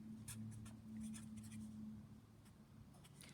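Pen or marker writing on a surface, faint scratchy strokes in short bursts over about three seconds, quiet and close above a low steady hum.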